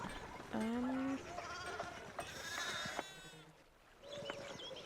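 Several sheep bleat near an abbey in the game Pentiment, with a few distinct wavering calls at varied pitches over soft ambient background and no speech.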